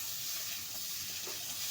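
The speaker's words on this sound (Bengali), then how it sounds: "টমেটো কুচি দিয়ে আমি কিছুক্ষণ ভেজে নেব।" Tomato pieces fry with browned taro root in a pan, making a soft, even hiss that holds steady through the brief moment.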